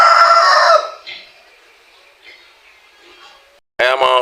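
Rhode Island rooster crowing loudly nearby on a small farm raising chicks, a strong call at the start and another burst at the end, with faint quieter sounds between.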